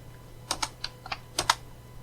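Fingers typing JavaScript on a computer keyboard, a sparse run of about eight crisp, close keystrokes in small clusters over a faint steady hum.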